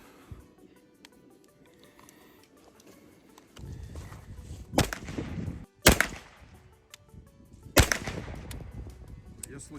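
Three sharp, loud 9x21 gunshots from an AKDAS SA-9 pistol-calibre carbine ring out a second or two apart, each with a short echoing tail, after a stretch of quiet background.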